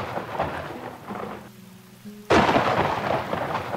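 Spring thunder rumbles in the video game Farthest Frontier, a low rolling boom swelling to a loud crack near the end over a steady wash of rain.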